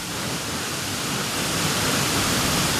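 Steady roar of a waterfall heard from close by, a dense, unbroken rush of falling water that stays even and loud throughout, with no voices.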